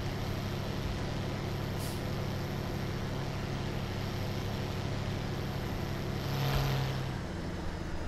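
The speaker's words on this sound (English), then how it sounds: "I do like this tractor. It's such a roar." A tractor engine drones steadily in Farming Simulator 17, a continuous low rumble that holds near and even for the whole stretch, with a brief hiss and a slight swell near the end.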